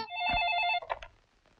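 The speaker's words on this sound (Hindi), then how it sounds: "टेलीफोन की घंटी बजाना मत भूलिएगा रात को 9 बजे" An old-fashioned telephone bell rings loudly in one sustained burst, then cuts off into brief clatter and quiet.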